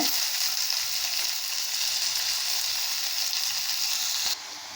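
Chopped onion and tomato sautéing in a pan for Ooty-style chicken varuval, a steady bright sizzle and frying hiss that runs continuously, then drops slightly in level near the end.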